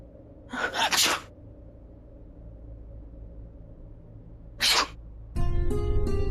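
A sneeze in a Hindi TV serial scene, heard twice as short, loud bursts against a quiet room tone, followed by a sudden swell of dramatic background music.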